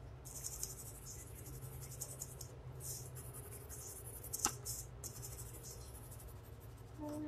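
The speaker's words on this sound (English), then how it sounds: "So I'm going to color it first" A marker coloring a paper flower piece for a kids' craft, close and faint scratchy strokes repeating in short bursts over a quiet room hum.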